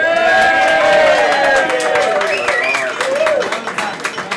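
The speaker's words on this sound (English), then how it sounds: "So, Barbara, big round of applause for remembering" An audience gives a round of applause for Barbara at an honouring event; a crowd murmur and clapping swell beneath voices that carry over it, fading toward the end.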